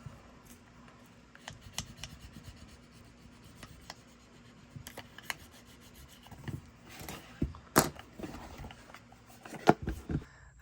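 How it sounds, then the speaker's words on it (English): Paper being burnished down by hand while making a mini album box, with irregular close rubbing and scraping strokes and occasional sharp crinkles and taps, no talk. "And burnish it down real well."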